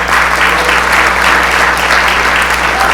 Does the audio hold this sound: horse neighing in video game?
no